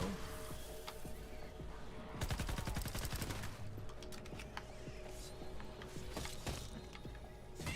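Gunfire in Fortnite, a rapid burst of automatic shots followed by scattered single cracks and clicks, with in-game ambient noise underneath.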